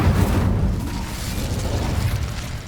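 A fire spell, Incendio, cast in Hogwarts Legacy, giving a dense, roaring whoosh of flame that stays loud and steady for nearly three seconds with a heavy low rumble.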